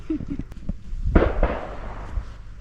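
A few distant gunshots from a shooting school in Wales crack out at irregular intervals, muffled and far off, under faint outdoor background noise.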